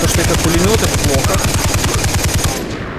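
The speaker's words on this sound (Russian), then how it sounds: "Вот то, что это пулемет, это плохо." Machine gun fire in the shooter game Far Cry 3 rattles out in a loud, rapid, unbroken stream of shots for about three seconds, then thins out at the very end.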